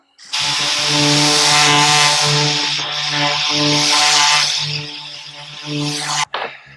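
A cabinet door is sanded with a foam sanding pad before repainting, a steady, loud, close motor-like whir with a buzzing tonal hum that runs for about six seconds, then cuts off abruptly with a brief knock at the end.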